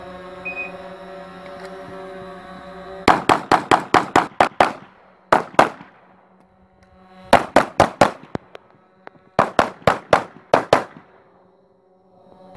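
Rapid volleys of gunshots from an IPSC practical shooting stage, loud and close, fired in three quick bursts of about five to seven shots each, with short gaps between them for movement and a reload.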